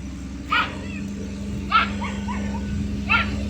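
A dog barks three times at even intervals, moderately near, over a steady low background hum.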